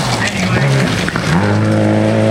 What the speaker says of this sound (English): a beautiful effort of driving the hill in the mighty Subaru, changes up a gear as you hear the flag popping off